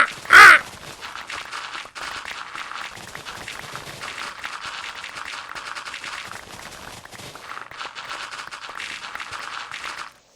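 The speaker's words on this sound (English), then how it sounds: "crows are so cool, man. They're smart critters." Crows caw, with one loud close call at the start followed by a long run of fainter, overlapping cawing and bird chatter in the distance.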